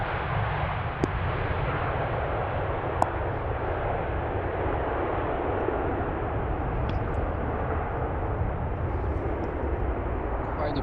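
A KLM airliner in a 100-years-of-KLM livery lands on runway 27 at Amsterdam Schiphol, its engines making a steady, broad, continuous roar that holds at constant loudness with no talking.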